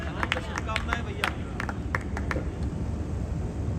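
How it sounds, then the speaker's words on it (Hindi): Scattered hand claps from an audience at a Hindi poetry recital (kavi sammelan) in Nathdwara, sharp and irregular over a murmuring crowd, with a voice talking underneath. "अरे वाह, फिर तो तालियां होनी चाहिए साहब"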